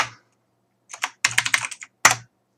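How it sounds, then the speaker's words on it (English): Fast bursts of keystrokes hammer a computer keyboard during an old DOS typing race game, loud close clicks in quick clusters separated by brief silences. "Because you gotta type things really quickly."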